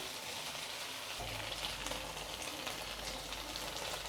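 Egg manchurian sizzles steadily in a pan as chopped spring onions go in, a continuous close frying hiss that thickens slightly partway through, with no talking.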